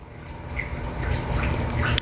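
A dog named Roxy laps up water from a bowl indoors, with soft, faint wet splashes and drips repeating in a quick, uneven rhythm for a couple of seconds.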